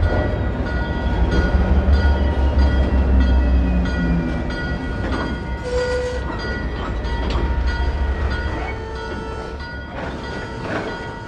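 A heavy ALCO diesel locomotive with engine problems labors uphill on street trackage, with a deep, steady engine drone and rumble, and metallic squeals and clanks from the cars as the train strains forward.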